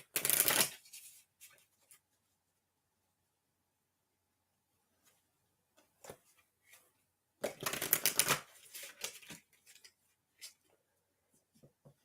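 Tarot cards being shuffled, two loud crisp riffling bursts up close separated by near silence, with scattered small card flicks and taps between them.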